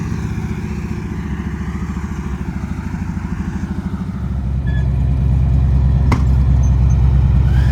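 A petrol engine runs loud and close, first idling with a rhythmic chugging pulse, then rising to a heavier, steadier roar about halfway through, with a brief clank near the end.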